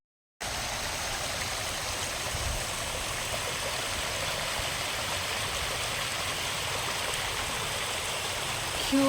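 A full water stream near Simhachalam temple rushes steadily and close by, a dense continuous roar of flowing water that starts abruptly and holds even throughout, with no talking.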